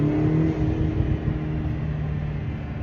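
Lotus Emira four-cylinder turbo engine under full-throttle acceleration, a loud steady intake roar and drone with a rising tonal whine, continuous and close throughout.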